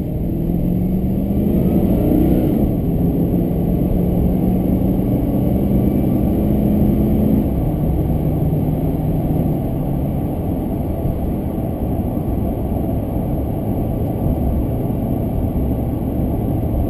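Supercharged 2003 Chevy Silverado SS V8 pickup with a Magnacharger MP122 and larger throttle body, engine still cold, cruising with a steady droning exhaust and whirring blower from inside the cab, rising briefly early on.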